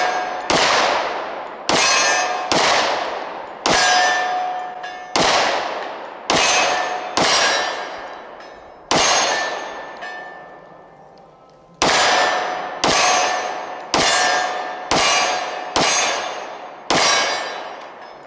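Springfield Armory XDm Elite 10mm pistol fired from 15 yards at steel targets, sharp loud shots each followed by a ringing metallic clang, in an irregular string of about seventeen with a longer pause midway.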